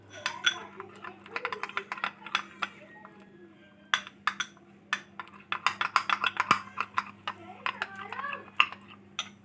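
A spoon clinks and scrapes around a bowl, mixing coconut milk with a few drops of lemon juice for a face pack, giving a steady run of close, bright taps and clatters over a faint hum.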